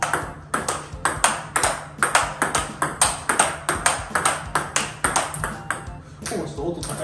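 A table tennis ball is hit back and forth in a steady forehand rally with a paddle faced in TIBHAR Evolution FX-D rubber, giving about twenty crisp, high-pitched pings at an even rhythm, up close.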